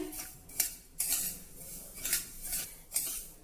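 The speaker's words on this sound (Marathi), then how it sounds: "ही नाचणी सुद्धा आपल्याला मंद गॅसवर छान खमंग भाजून घ्यायची आहे" Finger millet (nachni) dry-roasted in a pan over low heat is stirred with a metal spoon, giving sharp scraping clinks against the pan in a slow, roughly even rhythm, close and clear.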